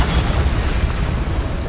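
A Descendo spell slams down in the Hogwarts Legacy video game, a loud dense rumbling impact that holds steady for its whole short length.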